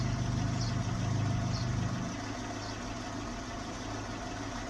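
A 1974 Renault 16 TS engine runs at idle with the valve cover off, a steady close rumble that drops slightly in pitch and level partway through and then holds even.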